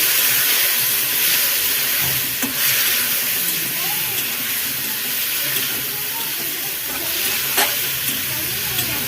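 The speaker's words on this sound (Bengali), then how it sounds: "একটু জলের ছিটা দিলাম মশলাটা কষার জন্য।" A splash of water hits turmeric and spices frying in a pan for Katla fish curry, setting off a loud, steady, close hiss of sizzling that runs throughout with small stirring scrapes.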